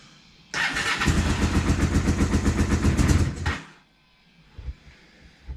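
An engine fires up and runs at a steady, throbbing idle for about three seconds with a dull, muffled tone, then cuts off abruptly, leaving quiet.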